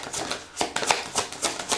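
Tarot cards shuffled by hand for a card reading, a quick run of soft, crisp riffling bursts repeating close up and alone.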